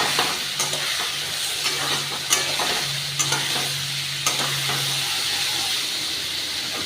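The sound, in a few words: cauliflower and fish head frying with green chillies, stirred in pan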